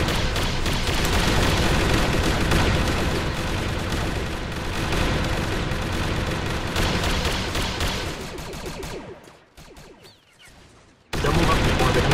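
Dense, continuous volleys of musket and rifle fire crackle in a Mount & Blade Warband multiplayer battle defending Kamino, loud and sustained with overlapping shots, briefly dropping away near the end before resuming, with voices mixed in underneath.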